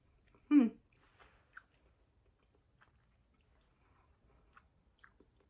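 A Russell Stover caramel Easter egg is bitten into once with a short, close crunch, followed by faint, sparse chewing sounds in a quiet room.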